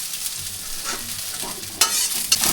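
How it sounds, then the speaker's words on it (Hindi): Chopped onion and mixed vegetables frying in a pan for homemade Manchurian, a close sizzling hiss that swells suddenly near the end as more is stirred in, with no voices. "और इसके बाद रखेंगे सब्जी कटी हुई, कटी सब्जी। इसको फ्राई करेंगे।"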